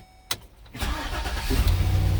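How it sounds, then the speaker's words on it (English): A 2013 Chevy Silverado started with a key: a click, brief cranking, then the engine catching and settling into a steady, close idle, with no voices. "I started this car."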